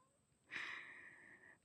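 A cat cries with one drawn-out, wavering meow. The call is faint and distant and runs for about a second over quiet background hiss.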